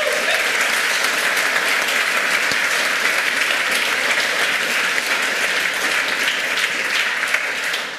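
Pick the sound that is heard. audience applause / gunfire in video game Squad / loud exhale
audience applause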